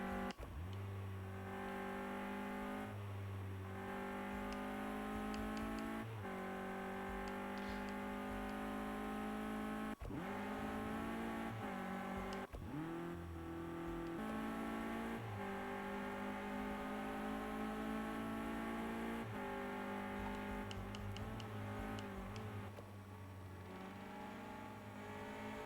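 Clio Cup race car engine in an Xbox racing game at Oulton Park International, a steady loud droning engine note with rising and falling revs and gear shifts over the whole stretch, no talk.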